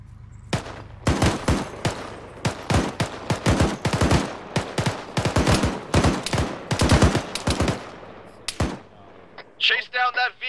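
Gunfire in the military video game Arma: a long run of loud, sharp shots, single cracks and quick bursts, close by and repeated for about nine seconds, with brief radio-like chatter at the end.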